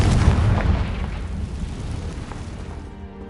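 A Confringo fire spell explodes in Hogwarts Legacy: a loud, deep boom that rumbles and fades out over about three seconds.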